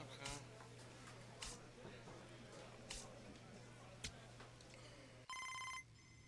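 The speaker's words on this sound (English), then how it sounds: "Phone call." A telephone rings in the MLB The Show 26 baseball video game, one short electronic burst heard near the end after a stretch of quiet speech with scattered clicks.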